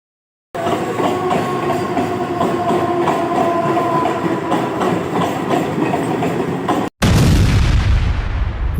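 A train rolls steadily along railway tracks as a film sound effect, a loud continuous rumble with rhythmic rail clatter that briefly cuts out before a heavier, booming surge.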